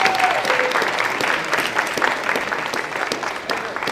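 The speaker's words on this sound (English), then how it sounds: "So if you guys would give him a round of applause." An audience at a wrestling awards ceremony claps warmly, a full and steady round of applause with a brief tonal sound at the start and faint crowd murmur beneath.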